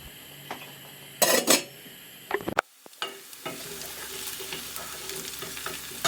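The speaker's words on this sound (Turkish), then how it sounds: "Biraz sıvı yağ gezdirerek kokusu çıkana kadar kavuruyorum." Something sautéing in a drizzle of oil in a pan on the stove, with a soft steady sizzle, a couple of louder bursts of clatter and stirring, and a short pause before the low frying resumes, close and fairly quiet.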